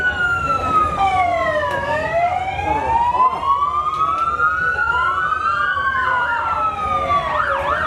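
A traffic control pilot vehicle's siren wails loud and close in a Christmas parade in Hikurangi, rising and falling in long sweeps, then breaking into quicker yelping warbles near the end.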